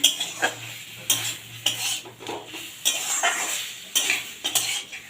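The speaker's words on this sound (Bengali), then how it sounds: "পটলগুলো দিয়ে আমি একটু কষিয়ে নেবো যতক্ষণ না পটল থেকে যে জলটা বেরোচ্ছে শুকাচ্ছে ততক্ষণ আমি কষিয়ে নেবো" Pointed gourds sautéed and stirred in a pan with spices, a rhythmic run of metal spatula scrapes and clinks against the pan about once a second over a light sizzle, close and fairly loud, with no talk.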